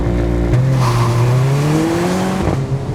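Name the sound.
Mercedes-Benz GLA45 AMG engine and sports exhaust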